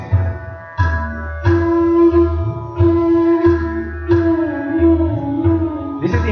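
A bamboo flute plays a melodic phrase in steady time over a Teen Taal rhythm, with sustained tones and regular rhythmic accents and a low drone underneath, close and prominent throughout.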